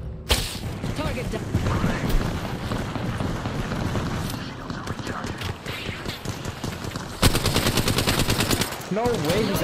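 Gunfire in Apex Legends during a squad fight, with rapid bursts of automatic shots and clattering mechanical effects. A loud volley near the end, with talk and game sounds running throughout.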